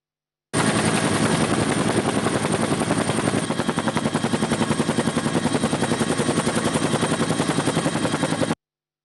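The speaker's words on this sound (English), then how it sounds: "The Air Force used a Bell 212 helicopter to monitor the movement of people in the area" A Bell 212 helicopter flies overhead, its rotor beating in a loud, dense, continuous chop that holds steady for several seconds.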